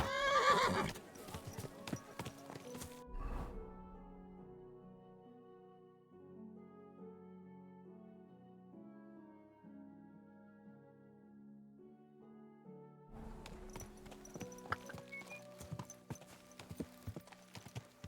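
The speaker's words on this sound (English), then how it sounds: "that looks like a bloody expensive horse" A horse in the medieval game Kingdom Come: Deliverance II whinnies near the start with a clatter of hooves, then a quieter tonal stretch passes before busy hoofbeats and movement return toward the end.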